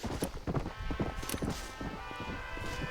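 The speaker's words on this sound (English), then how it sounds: "Opa, tem um cavalo ali." Horse hooves clip-clop in Red Dead Redemption, set in Mexico, a quick run of close, fairly loud hoofbeats over game ambience, with no talk.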